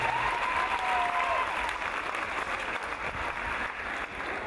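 A concert audience applauding, a broad sustained roar of many hands clapping at moderate distance, holding steady then easing slightly near the end.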